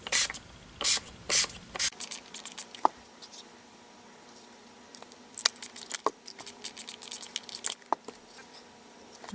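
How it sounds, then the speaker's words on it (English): Fireworks Summer Sky ink misted from a spray bottle onto wet watercolor paper, heard as a quick series of short hissing pumps, several clustered early and more scattered later, close and fairly quiet, with faint handling noises between. "just going to spray some of that on there"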